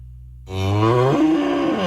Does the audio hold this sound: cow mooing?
yes